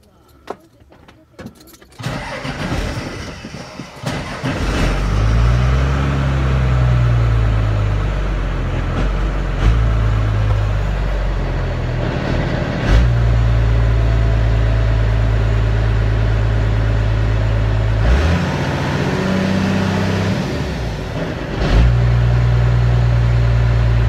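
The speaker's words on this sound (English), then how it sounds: "Step on the throttle to get it to go, turn over" A Cummins diesel engine swapped into a Ford truck cranks briefly and then runs with a loud, steady drone that shifts pitch several times as it revs, and a voice talks at the start.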